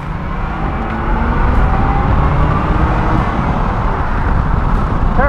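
A 1980 Corvette with a carburetor revving up toward its 5,000 RPM redline and shifting crisply, a loud, dense, steady engine roar that swells after the first second and holds strong throughout.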